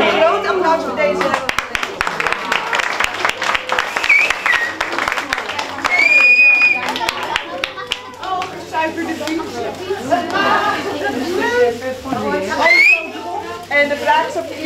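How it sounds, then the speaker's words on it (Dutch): Crowd in Spakenburg applauding with a few shrill whistles rising above the clapping, mixed throughout with lively chatter and people talking nearby. "even een groot applaus voor deze."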